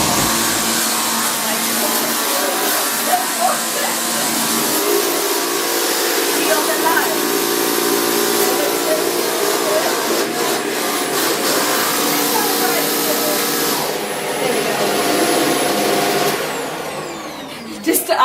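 A Shark DuoClean NV801UK powered lift-away vacuum cleaner runs steadily and loudly, its broadband whine continuing without break for the whole stretch, with brief knocks and handling noises and faint voices underneath.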